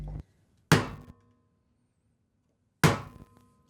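A chisel is struck into wood by hand, two sharp hammer or mallet blows spaced about two seconds apart, each a hard close knock with a short ringing tail, quiet between.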